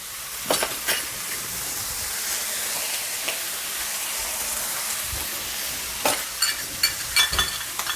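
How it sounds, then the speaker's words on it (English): A cup of seasoned yellow rice sizzles and hisses steadily in a hot pan, a continuous frying sound with a few sharp crackles and stirring clicks near the end. "Now we're gonna add in our cup of rice."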